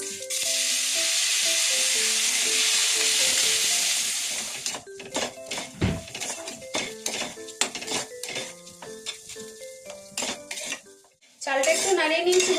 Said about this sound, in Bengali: এরপরে আমি এই যে চালটা জল ঝরাতে দিয়েছিলাম, এটা এই ঘিয়ের মধ্যে দিয়ে একটু নাড়িয়ে নেব।